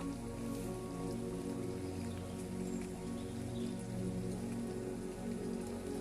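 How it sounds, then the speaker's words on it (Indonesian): Steady rain falls through a mountain forest on Gede Pangrango, a soft, even patter of drops on leaves and ground, continuous and fairly quiet with no voices. "Perlahan, jutaan bulir hujan mulai berkurang."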